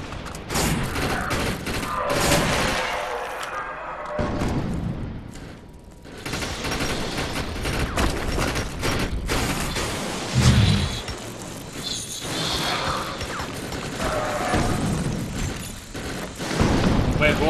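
Bursts of game gunfire as players shoot warriors in the co-op shooter Defiance, repeated rattling volleys and booms mixed with loud in-game effects throughout, with some talking in between.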